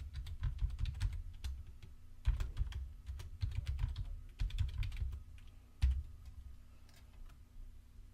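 Typing a login and password on a computer keyboard, with quick bursts of key clicks broken by short pauses, close and fairly quiet, with no one talking.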